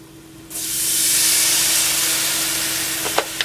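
Milk poured into a hot pan of BBQ nacho sauce bursts into a loud, sustained hiss and sizzle, settling into steady bubbling with a couple of clinks near the end.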